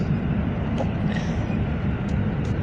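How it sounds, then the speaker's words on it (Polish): Inside a moving EN57AL Feniks electric multiple unit train, a steady low rumble of wheels and carriage noise fills the cabin, with faint rattles and no talking. "Dużo pociągów nagrywałem i wreszcie jedziemy pociągiem."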